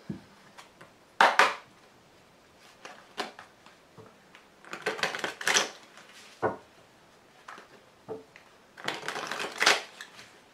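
Tarot cards are handled and laid out on a table, with close crisp bursts of shuffling and riffling between scattered soft taps and slaps as single cards are placed, and quiet pauses in between.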